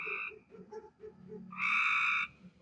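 Treefrogs croak in a series of short, evenly spaced calls, then one loud, sustained croak sounds close by before the calls die away.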